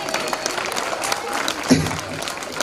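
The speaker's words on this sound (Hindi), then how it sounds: "तो आप लोग तालियां बजा सकते हैं" Audience clapping at a school annual function, a steady crowd applause with a voice speaking over it and a brief sharp accent near the end.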